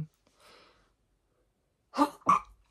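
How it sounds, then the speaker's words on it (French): A woman sneezes, first a faint airy intake and then two sharp, fairly loud bursts close together near the end, with quiet around them. "pardon, j'éternue."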